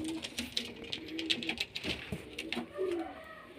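Pigeons of mixed Teddy, Golden Ferozpuri and Amritsari breeds coo repeatedly at close range, soft throaty calls overlapping with light rustling and scratching in a loft.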